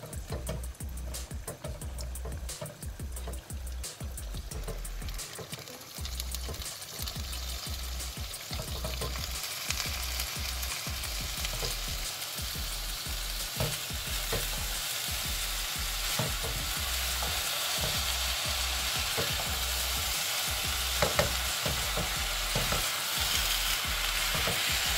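Rice stirred into a pot of hot sugar syrup for saffron zarda, a steady bubbling sizzle with a rapid, rhythmic scraping of a spoon against the pot running throughout, close with no talking.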